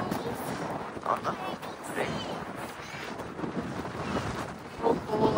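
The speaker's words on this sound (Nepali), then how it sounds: "हावा त कस्तो हावा चलेको" Steady gusty wind buffeting the microphone with a broad rushing roar near a copper mining area in Arizona, while a person talks intermittently over it.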